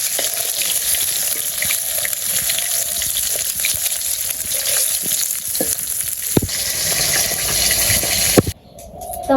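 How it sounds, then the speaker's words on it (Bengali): Pieces of rohu fish fry in hot oil in a village kitchen, a steady dense sizzle and crackle running close and loud throughout, with a brief dip near the end before the sizzling resumes. "তোমার মাছ ভাজা হয়ে গেছে।"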